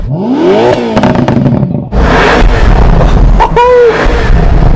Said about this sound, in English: I'm going to give it some revs.